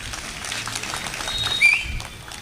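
Audience applause at a Tamil gathering, a broad steady wash of many hands clapping at moderate distance that swells briefly and then eases, with no talk over it.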